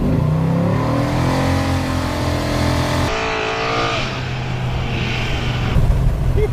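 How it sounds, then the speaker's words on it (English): A hot rod does a burnout on a paved road in a remote spot. The engine roars and revs loudly and continuously, rising in pitch, with tire noise mixed in. "It does good burnouts."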